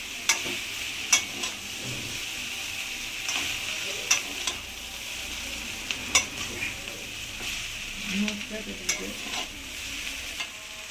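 Vegetarian chowmein noodles stir-fried with vegetables in a pan, with a continuous sizzle and regular clacks and scrapes of the spatula every second or so, close up and with no talk.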